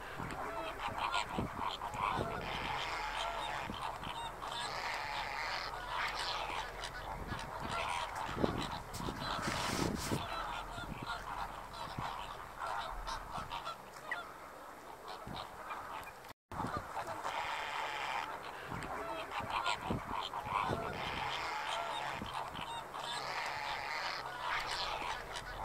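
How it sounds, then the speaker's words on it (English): Herons squabbling in the Camargue wetlands of southern France give loud, harsh, overlapping squawks and croaks that continue steadily throughout, close to the microphone. "I was lucky enough to come across some squabbling herons"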